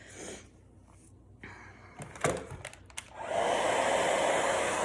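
A blow dryer runs in a styling session, its steady airy whoosh broken by bumps and handling noises before it surges back loud and continuous in the final seconds.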